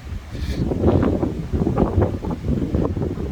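Violent foehn storm wind gusting through trees, a continuous loud roaring rush with repeated swelling gusts and no voices.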